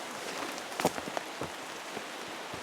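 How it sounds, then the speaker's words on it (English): Soft, steady rain patters on leaves and surfaces in a forest at Denali State Park, Alaska, with scattered louder drips landing nearby against a quiet background. "And in fact, it's raining right now."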